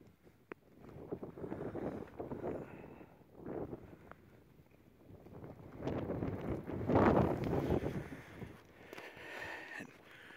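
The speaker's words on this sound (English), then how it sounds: "It is rather windy, making it a lot colder than what it actually is" Wind gusting across a cover crop field, rumbling against the microphone in uneven surges that swell loudest midway, with a faint rustle beneath.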